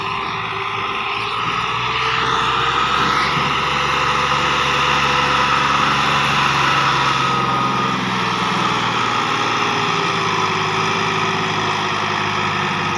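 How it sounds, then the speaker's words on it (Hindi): A tractor engine labours uphill while pulling a loaded 17-foot trailer, giving a steady, loud drone that holds close and even throughout with no talk over it. "चढ़ाई लै तो चढ़ रहा ट्रैक्टर"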